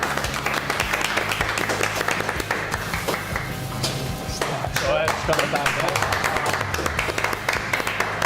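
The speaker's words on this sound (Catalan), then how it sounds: "Un aplaudiment per a ell." An audience applauds during a cooking class on making a potato omelette, dense clapping filling the stretch while a voice talks over it.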